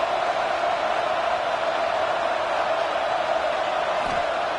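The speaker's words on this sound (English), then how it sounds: "It's early, but this crowd is fired up. Listen to this noise here." Crowd at an early-game football stadium, a steady, loud roar of cheering and noise that holds without a break throughout.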